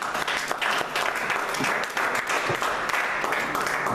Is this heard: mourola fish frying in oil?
no